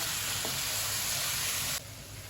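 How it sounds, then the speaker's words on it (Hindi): Onions fry in a pan for a bhindi gosht, giving a loud, continuous close sizzle that drops slightly in level toward the end. "ये माशाल्लाह से जो प्याज डाले थे हमने उनको अच्छी तरह से हमने भून लिया है"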